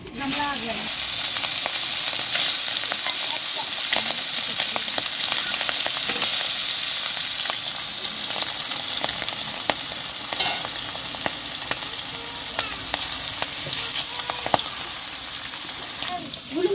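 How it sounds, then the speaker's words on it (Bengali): Pieces of freshly cut pangas fish fry in hot soybean oil with a loud, dense, continuous sizzle and crackle, close up, broken by occasional sharper pops and spatula scrapes. "তেলটা গরম হয়ে গেছে এখন মাছ একে একে একে দিয়ে দেবো"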